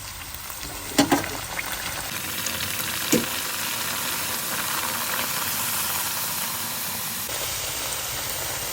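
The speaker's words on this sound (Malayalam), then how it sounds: "പിന്നെ നമുക്ക് ബാക്കിയുള്ള എല്ലാ പൂരികളും നമുക്ക് ചുട്ടെടുക്കാം" Pooris fry in hot oil with a steady, close sizzle and hiss that runs throughout, broken by a few sharp clinks of a utensil early on.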